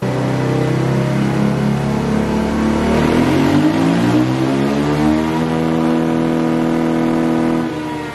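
A KTM/Husqvarna 500 four-stroke motorcycle engine revs on a dyno with a power bundle and piggyback programmer, rising in a long, loud, continuous pull that climbs steadily in pitch before cutting off.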